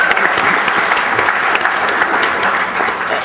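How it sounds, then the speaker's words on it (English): A conference audience at a panel on the state of open-source .NET breaks into loud, continuous applause, a close and dense wash of many hands clapping that holds steady for a few seconds. "You can applaud for that."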